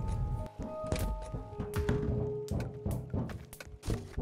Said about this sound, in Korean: 벤트 타는 소리가 막 나는구만.